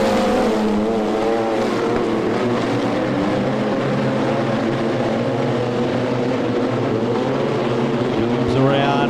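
Modified production race cars roar around the Lismore Speedway track in a continuous, loud, droning engine blare that holds steady throughout, with a race commentator talking over the noise.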